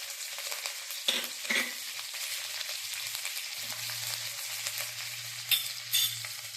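Cumin seeds, green and dried red chilies, and curry leaves hit hot oil mixed with ghee, giving a steady bright sizzle with sharper crackling bursts as the leaves and chilies go in; no one speaks.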